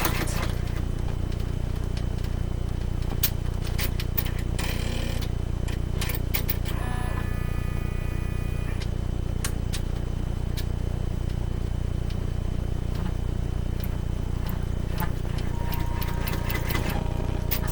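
An embroidery machine stitches a satin line with a steady, rapid mechanical clatter, a continuous hum underneath and scattered sharp clicks and ticks throughout.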